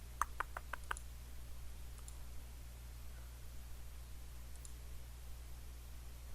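Mouse clicks on a web page at a computer, a quick run of five faint, crisp clicks at the start, then a couple of isolated soft clicks later over a steady low hum.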